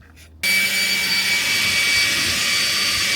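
A powerful blower switches on abruptly after a brief quiet, then rushes loudly and steadily with a thin high whine while clearing out an old 1982 Dodge truck.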